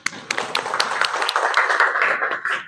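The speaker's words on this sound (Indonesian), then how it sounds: "beri tepuk tangan untuk Firman" A small class in a teacher training session claps for a student after his explanation, a short burst of scattered, uneven handclaps at close range with some murmuring underneath.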